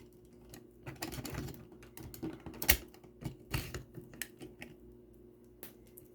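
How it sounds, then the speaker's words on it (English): A toy flatbed truck drags a toy car up onto its bed, giving a run of small, close plastic clicks, rattles and scrapes with a few sharper knocks, all without speech. "And it drags the old car up on it."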